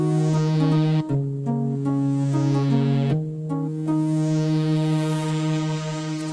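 Polysynth preset from UVI Synth Anthology 3, playing sustained chords with a steady low bass note and shifting upper voices, changing about every second or two, loud and alone with no talk.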